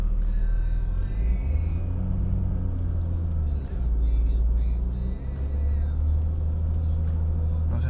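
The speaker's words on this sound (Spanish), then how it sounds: "debería de hacer un pelín de ruido del compresor" Idling Audi A4 B6 whose air-conditioning compressor whines under load, heard as a steady low engine rumble with a faint high tonal hum, swelling slightly as the engine is revved, close and continuous without speech.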